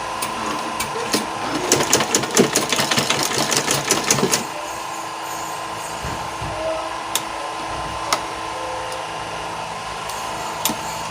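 A sewing machine stitches a fitted pencil skirt with side elastic, running in a fast, rapid burst of needle strokes for about four seconds, then stopping; a few faint clicks and handling sounds follow in a quiet room.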